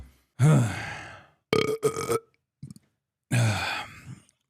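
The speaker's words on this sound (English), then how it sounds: "the fact that I burp into the microphone" A man burps loudly into a close microphone, two long belches separated by a few short grunting bursts, with silence between them.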